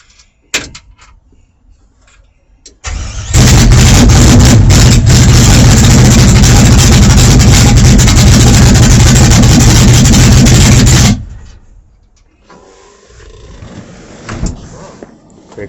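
A 1964 Chevy GMC truck with a swapped LS 5.3 V8 cranks and fires up, roaring loudly and steadily for about eight seconds before cutting off, with quiet handling noises around it.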